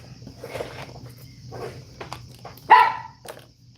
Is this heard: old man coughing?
no